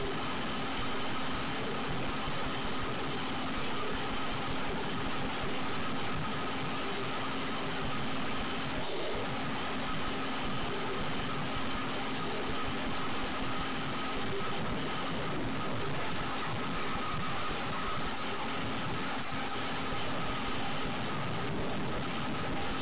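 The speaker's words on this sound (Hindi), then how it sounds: "एक साइड से सिलाई लगाने के बाद दूसरी साइड पे भी बिल्कुल सेम इसी तरह से सिलाई लगा लें।" Sewing machine stitching lace onto a winter trouser, a steady fast mechanical whirr running continuously and fairly quietly for the full length, with no one speaking.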